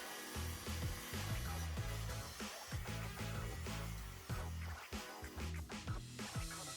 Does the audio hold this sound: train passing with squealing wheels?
no